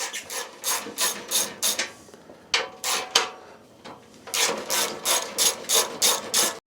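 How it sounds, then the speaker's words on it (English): A ratchet wrench loosens the two nuts on the muffler support bracket of a Harley-Davidson Road King Special, giving several bursts of rapid clicking close up with short pauses between them. "we're gonna remove our two nuts going to our bracket, the support bracket for the muffler."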